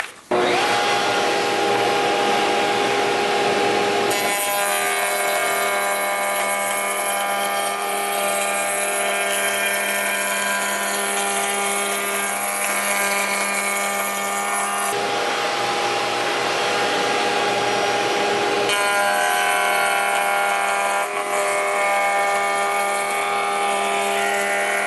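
Steady high-pitched whine of a router table cutting wood, loud and close, changing tone as the bit bites in and eases off between passes.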